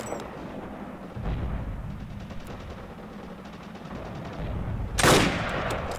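A single sniper rifle shot in the World War II shooter Forgotten Hope 2 on Motovskiy Bay cracks loudly near the end, standing out above a steady low rumble of wind and ambient battlefield noise.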